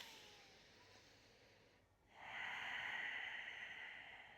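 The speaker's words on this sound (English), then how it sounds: "Take a deep inhale and exhale." A person slowly draws one deep breath in through the nose, pauses briefly, then lets out a longer, louder breath, close to the mic and quiet during yoga breathing practice.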